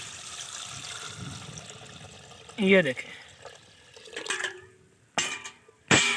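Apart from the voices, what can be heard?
water poured into pot of bitter apples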